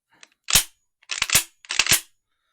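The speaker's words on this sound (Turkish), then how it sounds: "Mekanizma sesi insanı hipnotize ediyor." An Aselkon S4 GT shotgun's action is cycled three times, each a sharp metallic clack-clack of the mechanism, close and loud with silence between the strokes.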